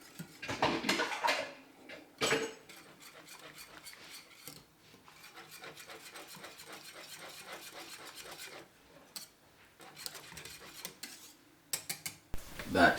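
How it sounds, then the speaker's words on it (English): A whisk scrapes and clinks rhythmically against a pan of Jamaican green plantain porridge, close and steady, with a few louder metallic knocks at the start and end. "Give it a whisk."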